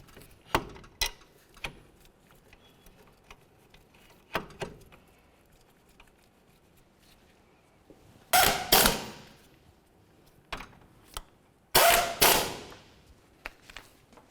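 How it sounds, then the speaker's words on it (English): Caliper bracket bolts on a 2004–2006 Scion xB front hub being tightened with a torque wrench, heard as scattered light ticks and clicks, then two louder bursts of rapid ratcheting clicks up close, with no voices. "snug them up, and then torque each of these to"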